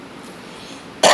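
A single sharp cough bursts out loud and close at the very end, after a short stretch of quiet room tone during a religious talk.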